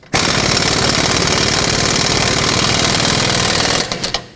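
An impact wrench rattles continuously at close range, a loud steady hammering while it tightens the nut on the rear upper control arm of a 2005-2010 Pontiac G6, then stops with a few short bursts.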